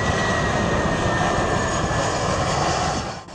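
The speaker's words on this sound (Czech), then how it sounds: "tak aspoň jedno letadlo jdoucí na přistání" A passenger airplane passes overhead on its landing approach near an airport, a loud, steady engine roar that holds for several seconds before starting to fade at the end, with no voices.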